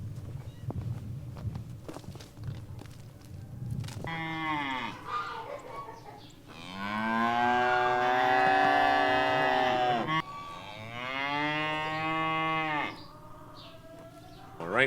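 Dairy cows at a barn give several long, drawn-out moos, two of them loud and sustained, after a few seconds of quieter rustling and shuffling in the barn.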